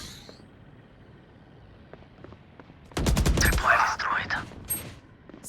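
Rapid bursts of automatic gunfire from the tactical shooter Valorant erupt suddenly after a quiet stretch, loud and close, with a couple of sharper shots trailing off near the end, and a voice speaks over part of it.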